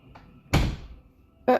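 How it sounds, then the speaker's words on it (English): A door is shut by children indoors, giving one solid nearby thud followed a moment later by a second sharper knock or latch click, with quiet between. "My kids just closed the door on me."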